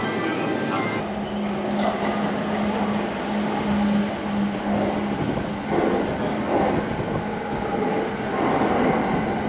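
A Saikyo Line commuter train bound for Omiya rumbles at platform 6 of a station, with a loud, continuous mechanical roar and a sustained hum under faint rattles, and no one speaking.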